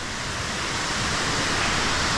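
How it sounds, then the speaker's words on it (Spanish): Waterfall at El Salto Curet in Maricao, Puerto Rico, a continuous broad rushing roar of falling water, steady and enveloping with no voices over it. "Miren la cascada, que esta es la otra parte que mucha gente no conoce."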